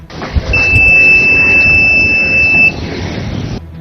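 An electronic proximity-sensor alarm on a social distancing cap sounds a steady, piercing high beep for about two seconds over a busy, noisy outdoor background.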